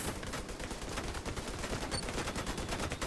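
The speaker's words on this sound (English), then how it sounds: "Everybody stop shooting now." Continuous rapid gunfire from a video game, dense automatic bursts rattling steadily for a few seconds at a distance, fairly quiet, with no voices.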